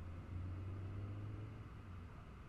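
Low steady engine rumble of a car creeping along at slow speed in the horror game Fears to Fathom, a constant drone with no talk.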